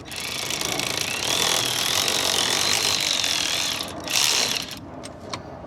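A ratchet working a bolt loose on a Versys X300 motorcycle during a Givi crash bar install gives steady, close, rapid clicking for about four seconds, then a short final burst and a few scattered clicks.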